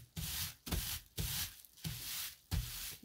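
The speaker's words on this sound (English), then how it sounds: "So I'm just going to rub it gently to begin with, and then we can be a lot rougher" Wet wool felt rubbed by hand while forming an illuminated bowl, giving five rhythmic swishing strokes in a steady back-and-forth pattern, close and fairly loud, with no voices.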